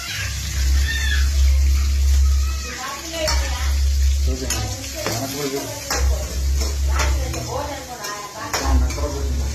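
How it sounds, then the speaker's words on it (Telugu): Onions fry in oil in a pan and are stirred with a ladle: a steady, close sizzle with scraping and clinking strokes against the metal and a low hum underneath. "గరిట పెట్టి ఇలా తిప్పుతూ ఫ్రై చేయాలి బ్రౌన్ ఆనియన్ అయ్యేదాకా."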